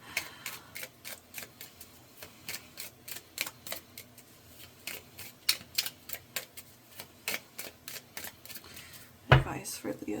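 Tarot cards shuffled by hand in a series of crisp, rapid riffles and taps, fairly close and moderately loud, with a brief sharper clack near the end.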